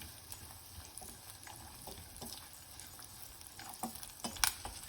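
Cashews frying in a pan for ven pongal, giving a steady soft sizzle with faint stirring scrapes and a few louder clinks near the end, close and alone.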